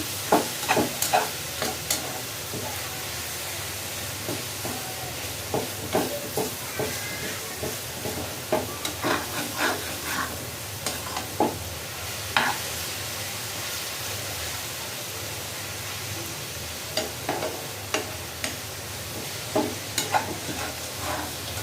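Shredded cabbage bhaji fries in a pan with a soft steady sizzle, while a spatula scrapes and clacks against the pan in repeated stirring strokes.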